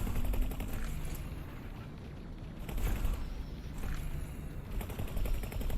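Spaceship weapons fire in the space game X4: Foundations, a rapid, crackling stream of shots that pulses in bursts over several seconds at moderate loudness, with no talking.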